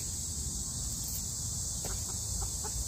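Chickens go about their business, giving a few soft, short clucks late on against a steady hiss of outdoor ambience and insects, faint and somewhat distant.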